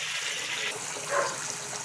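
Tap water runs steadily into a container, a continuous close hiss and splash with no talking over it.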